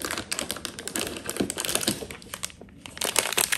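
Crinkling and tapping of a Funko Pop advent calendar box being opened, with dense, close crackly rustles and taps running throughout, no talking.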